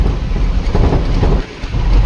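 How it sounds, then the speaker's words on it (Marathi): Heavy rain pours down at Khandala ghat, a dense, steady roar of downpour close by and loud throughout, with no voices. "यू बघा कसला पाऊस भरलेला आहे, अखेर रस्त्यात आम्हाला पाऊस लागलेला आहे।"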